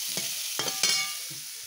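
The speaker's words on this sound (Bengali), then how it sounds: "আমাদের আজকে আখ ভাজা হচ্ছে।" Sugarcane frying and being stirred in a pan during a harvest-festival home cooking session, with a steady sizzle broken by a few scraping stir strokes, close by and fairly quiet, no talking.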